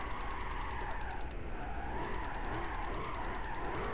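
A Ford GT in Gran Turismo 5 drifts with its engine roaring hard, loud and constant, held steadily in fourth gear. A rapid rhythmic ticking runs over the top, cut by a short break midway.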